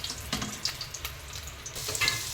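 Garlic sautés in a pan for palabok, a close, steady sizzle of frying broken by scrapes and stirring noises.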